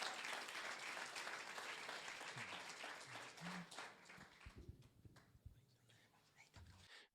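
Audience applause for a healthcare CEO taking the stage at a mental health panel event, a dense steady roar of clapping that thins and fades toward the end, with faint murmuring beneath.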